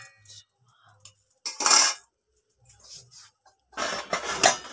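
Metal plates and dishes are handled in a home kitchen, producing a couple of bright, ringing clatters between quiet stretches with soft knocks.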